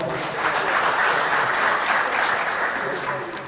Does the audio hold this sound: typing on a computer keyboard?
no